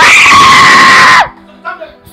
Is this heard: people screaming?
yes